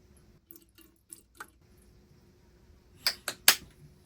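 Liquid smoke splashes in small drips and spatters into an Instant Pot, with a few faint early drops followed by three louder, closer splashes near the end in a quiet kitchen.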